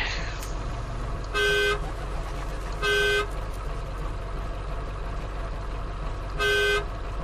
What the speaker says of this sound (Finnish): On muuten tehokas torvi.